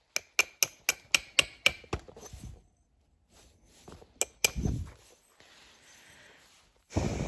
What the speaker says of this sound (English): I just need to give it just a little trim with the hammerstone